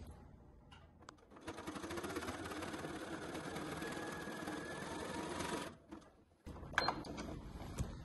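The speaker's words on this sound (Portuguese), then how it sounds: "vamos fazer aquela costurinha linda aqui de pesponto, de acabamento" A sewing machine topstitches a finishing seam on a fabric wallet made of printed cotton tricoline, a close, steady rapid whir lasting about four seconds, with quiet pauses and small handling clicks before and after.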